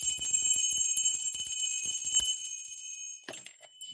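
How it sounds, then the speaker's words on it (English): A hand bell rings with a bright, sustained metallic tone that holds steady for about three seconds and then fades and cuts off, with no talking over it. "I'm going to ring my bell because I'm not playing."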